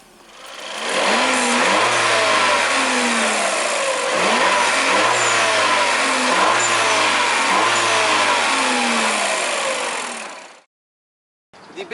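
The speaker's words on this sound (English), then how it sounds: "Now, to start the car up, you have this standard key." A Peugeot 3008 with a 1.6-liter turbo engine cranks to life, then revs up and down repeatedly for about ten seconds, loud and close, before cutting off abruptly.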